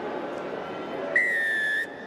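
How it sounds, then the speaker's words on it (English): A referee's whistle at a Wigan v Salford rugby league match gives one sustained shrill blast of under a second, rising clearly over the steady roar of the stadium crowd. "Referee's blown his whistle."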